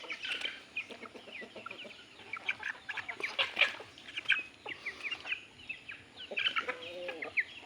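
Chickens cluck and chirp nearby in a quick, irregular series of short calls, fairly faint over a low background hum.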